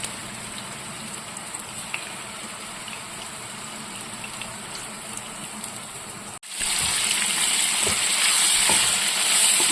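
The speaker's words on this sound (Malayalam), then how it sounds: "ഓരോ ചെമ്മീനെടുത്ത് നമുക്കതിലിട്ടിട്ട് ഒന്ന് ഫ്രൈ ചെയ്തെടുക്കാം" Prawns shallow-frying in oil for prawn biryani, with a steady, moderate sizzle that suddenly jumps to a much louder, crackling hiss partway through and stays loud and close to the end.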